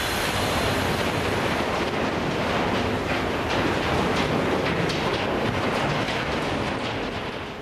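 A huge iron ore freight train from the mine, among the longest and heaviest in the world, rolls past with a dense, continuous roaring rumble and rattle, loud and close, easing off slightly at the end.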